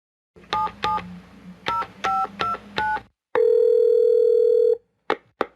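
A telephone dials a number to reach an IT help desk, with a quick sequence of crisp touch-tone beeps in irregular groups, then a long steady ringback tone and two short clicks, all close and loud.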